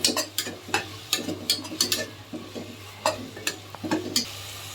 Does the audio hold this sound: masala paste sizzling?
yes